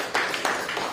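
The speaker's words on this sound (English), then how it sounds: "Let's have a big round of applause" An audience applauding at a live election action summit, a brief burst of scattered claps that swells twice in quick succession at moderate volume.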